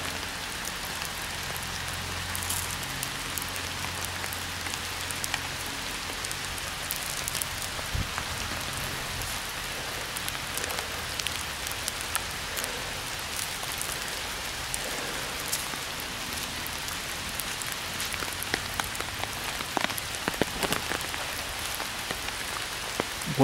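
Steady rain falling on a burning Ouija board, with scattered louder drops and splashes standing out against the constant patter.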